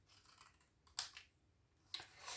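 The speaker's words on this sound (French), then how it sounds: "Je fais mon incision avec les ciseaux juste au premier pli" Scissors snip through paper at close range while a refillable tissue box is being made, giving two quiet, crisp cuts about a second apart over a low background hiss.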